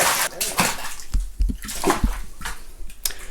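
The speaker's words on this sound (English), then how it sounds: "Okay, do a cannonball." Splashes and sloshing water in an inflatable pool after a cannonball jump, a few bursts of splashing and churning at close range.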